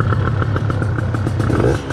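Gilera Runner 180cc scooter engine idling steadily after a carburetor adjustment, a loud, close, continuous rattling hum with a fast even pulse and no talk over it.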